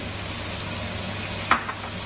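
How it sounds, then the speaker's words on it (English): A steady, even sizzle of onion and fresh capsicum frying in a pan, with a brief clack of a utensil near the end. "I'm frying the onion and the fresh capsicum."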